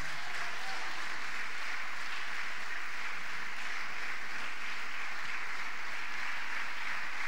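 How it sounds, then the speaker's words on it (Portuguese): A church congregation claps together in steady, continuous applause, a broad wash of hands heard at moderate distance that holds evenly throughout, with faint low rumble beneath. "Dê um aplauso ao Senhor agora."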